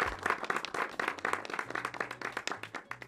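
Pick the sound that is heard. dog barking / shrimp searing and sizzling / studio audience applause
studio audience applause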